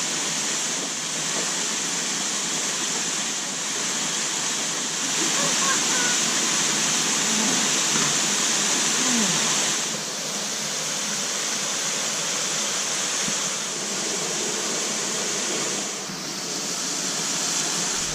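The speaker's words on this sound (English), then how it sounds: "we're going to jump in this waterfall up here" A jungle waterfall roars in a steady, dense rush of falling water, loud and close, holding an even level for the whole stretch with only slight swells.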